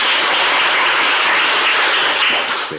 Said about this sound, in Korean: 축사해 주신 신성범 의원님께 다시 한번 큰 박수 부탁드립니다